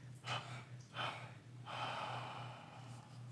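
Soft breaths during a guided meditation: two short exhales followed by a longer, steady one, close and quiet over a faint hum.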